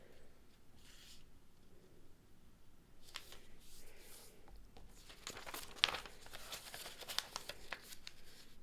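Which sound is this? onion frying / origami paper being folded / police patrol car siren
origami paper being folded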